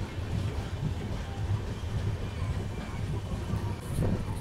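The Guntur to Secunderabad Golconda Express, train 17201, rumbles steadily at Khammam railway station, a continuous low rolling drone with faint clatter and no clear voices.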